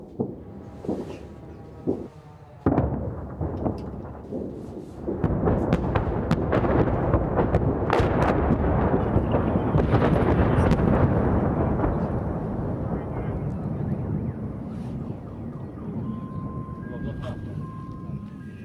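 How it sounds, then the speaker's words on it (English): Explosions from a city under bombardment in the Mariupol war, a few sharp booms followed by a long heavy rumbling roar, loud and distant-sounding, with voices talking over it. "The city is still being bombed."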